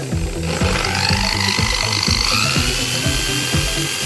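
A washing machine motor rewired as a 220 V generator spins steadily, giving a loud, continuous whirring drone with a rhythmic pulsing thump about twice per second and no voices over it.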